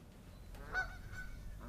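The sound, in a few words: Canada goose honking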